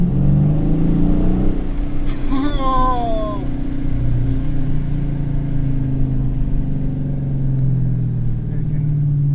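A 2016 Dodge Challenger R/T Shaker muscle car engine rumbles steadily and loudly throughout. A short high wavering squeal briefly rises above it early on, and a voice speaks once.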